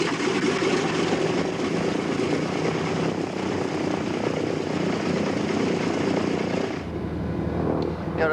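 Propeller aircraft engine running on an airliner, a loud, steady droning roar that holds for several seconds, then drops to a lower rumble near the end.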